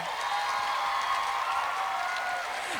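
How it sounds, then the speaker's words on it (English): An audience at the Verselandia 2023 poetry slam applauds after a poem, a dense, steady wash of clapping from a crowd in a hall that carries on for the whole stretch. "And keep that applause going"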